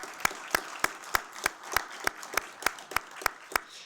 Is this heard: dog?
no